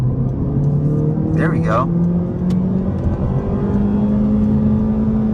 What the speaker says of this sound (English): We can try out another acceleration off the line.